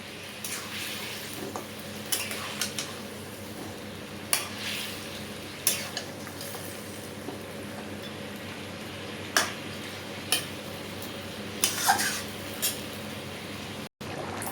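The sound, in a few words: marinated chicken stirred and frying in a pan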